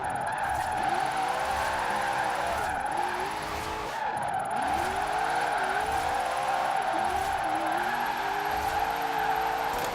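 An RTR Mustang in the racing game Forza Horizon 4 revs and squeals its tires through repeated slides, the engine rising and falling over a steady hum.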